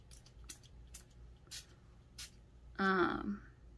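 Several short, soft hissing sprays from a spray bottle, evenly spaced, followed by a brief voiced sound near the end.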